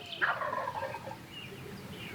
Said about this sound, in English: we've got that gobbler to the east